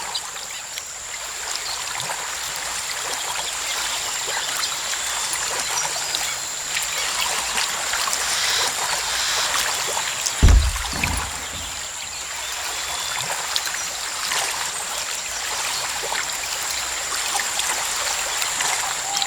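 Water streaming and trickling beneath a boat in the game Assassin's Creed Liberation, a steady wash of flowing water with one low thump about halfway through.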